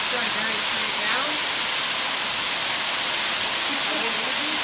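A rushing waterfall roars as a steady, loud, broadband wash of water noise, close and continuous, with a faint voice buried beneath it.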